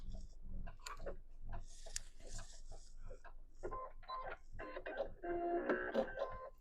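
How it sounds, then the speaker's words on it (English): Sewing machine back-stitching quilt binding: quiet rapid mechanical ticking and clicking in short bursts, under a nearby voice talking. "go ahead and back stitch to end that."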